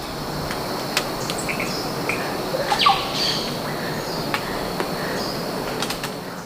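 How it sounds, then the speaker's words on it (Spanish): Scattered sharp cacique bird calls and squawks ring out over a steady hiss of insects in the jungle, a few louder whistles standing out from the dense natural backdrop. "tiene un montón de sonidos del cacique"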